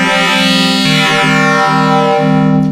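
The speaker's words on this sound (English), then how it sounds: "We also have a wavefolder circuit per voice, as I said, which sounds like this." A Frap Tools Magnolia synthesizer plays a sustained tone through its wavefolder circuit, bright and buzzy with rich overtones, the timbre shifting and sweeping several times over a few seconds, loud and alone.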